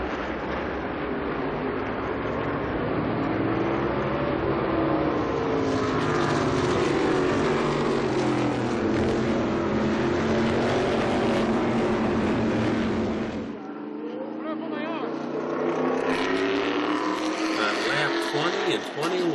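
Modified race cars roar around the Lime Rock track, a loud, dense wall of engine noise with rising and falling pitch as cars pass, briefly dipping before surging again, with a commentator talking over it.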